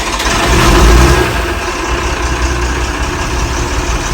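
Ford turbo engine in a 1980s UK powerboat with a cracked engine block, running at a steady low idle just after starting, with a brief swell in the first second before it settles into an even rumble.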